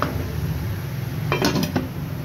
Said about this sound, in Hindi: और ढक्कन ढक के रख देंगे।